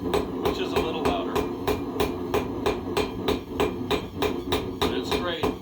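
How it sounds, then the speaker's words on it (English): A hammer forges metal on the horn of an anvil for a wall hook, ringing out in a fast, steady series of loud, close metallic strikes with no talking. "do that on the horn of the anvil, which is a little louder"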